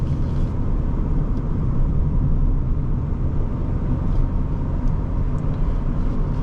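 A 2002 Honda Accord SE accelerating under throttle, a steady low engine rumble and road noise from inside the cabin, continuous with no voices.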